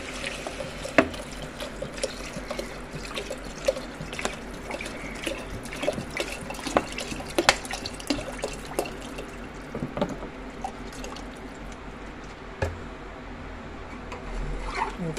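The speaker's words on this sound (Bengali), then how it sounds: "এবারে আমি জল দিয়ে দিচ্ছি।" Water poured into a cooking pot during preparation of a festival offering meal, a steady close liquid pour with scattered drips and splashes, fairly quiet and with no talking.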